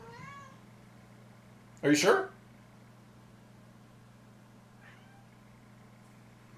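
A house cat meows a couple of times, one brief call near the start and a fainter one later, under a steady low hum while people talk nearby.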